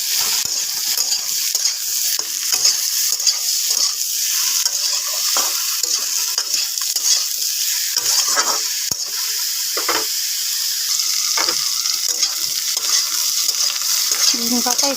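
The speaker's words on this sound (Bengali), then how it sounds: "ঝিঙ্গাটা একটুখানি ভেজে তারপর নামিয়ে নেব।" Ridge gourd fries in a pan after potatoes, with salt and turmeric added, making a continuous hissing sizzle broken by repeated scraping and clattering stirs throughout, close and fairly loud with no voices.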